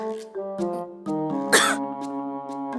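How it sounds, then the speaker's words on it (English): A character in the video game Sabbat of the Witch gives one short, sharp cough over soft, sustained background music, close and clear, with no talking. "But you're still coughing?"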